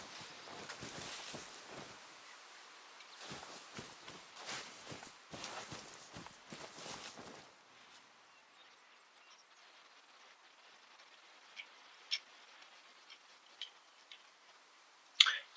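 A hunter's running footsteps in the hunting game Call of the Wild, heard as quick faint rhythmic steps through brush that stop about halfway, leaving near quiet with a few small isolated ticks and clicks.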